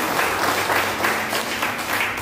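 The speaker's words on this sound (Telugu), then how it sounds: "గట్టి చప్పట్లు కొట్టండి" A congregation at a church service bursts into loud, sustained applause, dense, even clapping filling the hall from start to finish.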